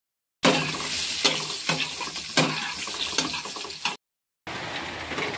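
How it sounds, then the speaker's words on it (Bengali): Potatoes fry in a pan for hilsa fish biryani, giving a loud, steady sizzle up close. The sizzle is broken by repeated stirring scrapes and briefly cuts out before resuming. "আলুটা ভেজে নিচ্ছি।"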